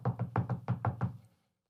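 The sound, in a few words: knocking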